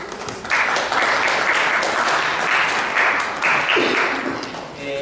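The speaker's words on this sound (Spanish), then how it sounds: "Seguimos con las palmas." An audience at a philosophy schools conference applauds in a steady, fairly dense clatter of claps that comes in slightly rhythmic surges, with no talking.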